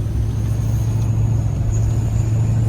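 A turbocharged car engine drones steadily, with a thin, faint high-pitched turbo whistle riding above the low rumble.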